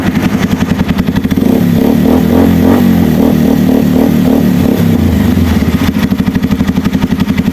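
Bajaj Rouser 180 motorcycle that had refused to start, its engine firing up and running loud and close, a fast pulsing throb with rhythmic clattering bursts as the revs rise and settle.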